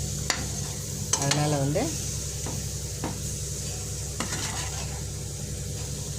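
Mango pieces sauté in a pan for mango pachadi, giving a steady low sizzle with occasional stirring scrapes, while a voice speaks briefly near the start.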